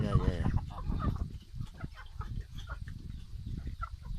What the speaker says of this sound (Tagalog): mga manok na yan.